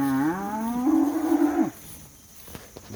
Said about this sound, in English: Man, y'all are squalling for those calves.